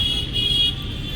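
A car horn sounds during a driving lesson: a short, steady toot heard from inside the car over a low engine and road rumble.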